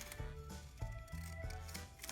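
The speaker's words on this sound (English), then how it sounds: "Then I'm gonna take my magical pinking scissors, which have the zigzag thing on them, and I'm going to cut as evenly as I can" Pinking scissors with zigzag blades cut through paper in a few quiet, rhythmic snips, close up and faint, with soft music underneath.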